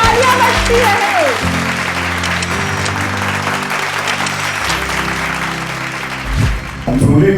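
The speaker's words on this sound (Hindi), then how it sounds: "तालियां बजती रहे।" Audience applause at an awards ceremony in a shopping mall cinema, with a continuous wash of clapping under a tonal, droning background that swells again near the end.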